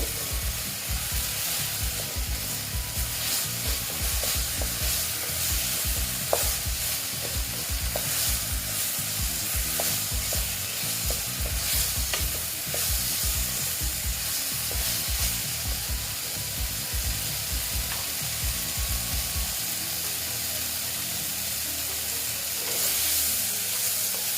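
Onion-spice masala for chana dal with potato fries in a pan, a loud close sizzle with rapid rhythmic stirring and scraping that stops near the end, leaving only the frying hiss; no talking.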